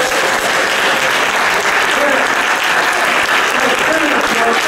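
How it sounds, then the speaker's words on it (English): Sustained, dense applause from a church congregation at a Black History program, loud and steady throughout with no pauses, a crowd clapping together in a hall. "Keep it going. Round of applause."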